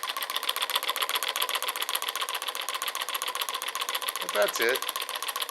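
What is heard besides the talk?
piston powered magnetic pulse motor running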